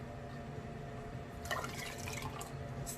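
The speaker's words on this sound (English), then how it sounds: "So I am filling the jars with 1 inch of headspace," Dark homemade mushroom stock is poured into canning jars, a soft liquid trickle and splash that grows brighter midway as the jar fills, close and fairly quiet.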